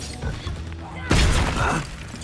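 A Confringo explosive spell cast in Hogwarts Legacy, a sudden loud blast that swells in and rumbles briefly over background game ambience.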